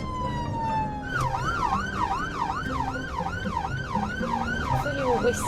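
A person riding in an emergency vehicle whistles an imitation of an ambulance siren, a steady, close wail that rises and falls in repeated sweeps over a low engine rumble.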